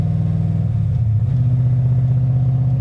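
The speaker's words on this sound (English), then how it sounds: "Just listen to the engine of the car. It turns up good." A Ford-powered car engine revs up and holds a loud, steady low rumble close by, the pitch climbing partway through and then settling at a higher drone.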